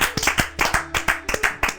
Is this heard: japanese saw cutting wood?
no